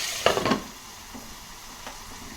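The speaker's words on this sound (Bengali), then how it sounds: "প্রথমে আমি চিকেনগুলোকে হাই ফ্লেমে নেড়ে নিচ্ছি" Chicken pieces are stirred and fried over a high flame in a kadai, giving a close, steady sizzle. A burst of scraping stirs comes early, followed by lighter spatula touches.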